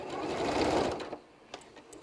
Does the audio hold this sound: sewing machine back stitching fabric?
yes